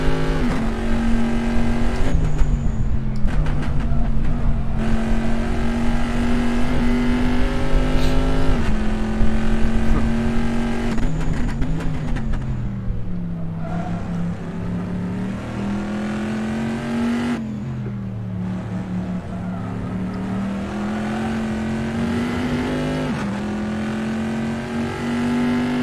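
A Corvette C7.R race car at Sebring in a sim racing game roars loudly and continuously. The engine pitch climbs and drops through gear changes, and rasping bursts mark corner entries and exits.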